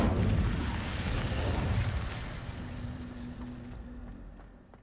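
Incendio fire spell cast in the Hogwarts Legacy video game, a loud roaring, crackling blaze with heavy low rumble that holds steady and then slowly fades over several seconds, with no talking.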